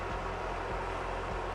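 A kitchen range hood fan runs on high over a pan of duck fat, giving a steady, dense broadband whoosh with a faint low rhythmic thump underneath.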